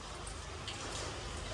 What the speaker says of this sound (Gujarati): ખતરનાક વરસાદ ચાલુ થયો છે